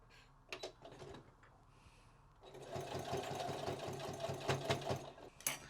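A sewing machine runs in short bursts, then steadily, as it tacks fabric into place for a kimono jacket, a close mechanical rattling and whirring with fast rhythmic stitching.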